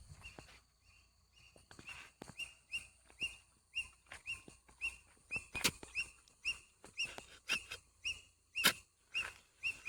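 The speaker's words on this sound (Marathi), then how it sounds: "पक्षी पण मस्त ओरडतोय." A bird calls in a quiet Konkan countryside setting, giving a steady series of short, bright, evenly spaced chirps at a moderate distance, with faint rustling and footsteps between them.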